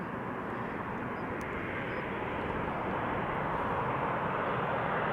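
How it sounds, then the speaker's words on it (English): KLM Boeing 737-800 arriving at Amsterdam Schiphol from Bergen, a steady broadband jet engine rush building slightly in loudness, heard alone. "This is KLM Flight 1164 arriving from Bergen, 737-800"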